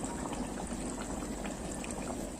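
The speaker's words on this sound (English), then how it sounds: "So as to simmer for like 2 minutes" Banga soup with goat meat simmering in a pot, a dense steady bubbling and gurgling close by, unbroken and fairly loud for its short length, with no one speaking.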